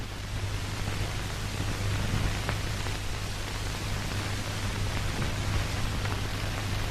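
Steady rain falls in a dense, even hiss with a low hum beneath, continuous and unbroken, with no voices.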